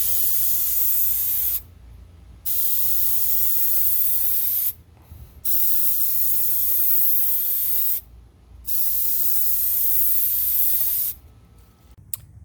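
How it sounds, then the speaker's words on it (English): Clear coat is sprayed onto a car headlight from an aerosol can in four long, loud, close hissing bursts, each separated by a short quiet pause. "gonna go ahead and apply this clear coat. It's just gonna protect it."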